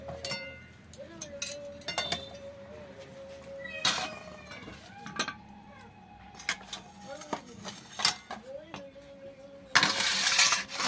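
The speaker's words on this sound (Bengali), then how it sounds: "দেখুন 8 ঘন্টা হয়ে গেছে, এবার আমি ঢাকাটা খুলে নিচ্ছি।" A metal lid is lifted off a pot of food after eight hours of cooking, giving several short clinks and clanks against a low background hum, with a louder rustling burst near the end.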